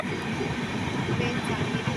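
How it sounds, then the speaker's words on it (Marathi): A train rumbles past nearby in a forest with a steady, dense roar that holds without a break. "ट्रेन चाललेली आहे"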